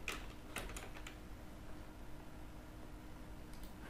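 Soft, quiet keystrokes on a computer keyboard, in a few quick clusters at the start and another near the end, over a steady background hiss.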